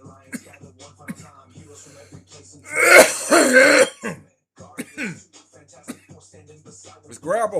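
A person gives a loud burst of coughing and throat clearing while playing Fortnite. The burst lasts about a second and is close to the mic, with quieter voice sounds before and after it.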